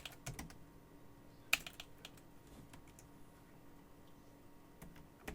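Keystrokes on a computer keyboard as network configuration commands are entered, quiet irregular bursts of close clicks with short pauses and one sharper tap, no talking.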